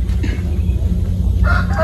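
A native chicken hen clucks nearby over steady low background noise, with a few short throaty calls.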